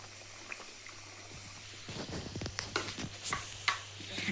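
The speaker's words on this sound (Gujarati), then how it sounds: "આને ધીમે તાપે આપણે તળવાના છે એટલે એકદમ ક્રિસ્પી આનું પડ થાય" Samosas bubble and sizzle in deep hot oil over low heat, a continuous frothy hiss with irregular crackles growing busier midway.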